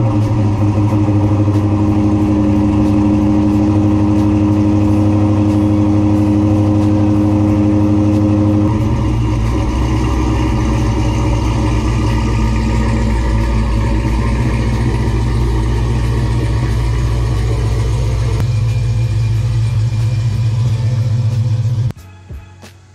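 A Ram Daytona pickup truck engine runs steadily with a deep, rumbling idle, then revs and moves before shutting off abruptly at the end.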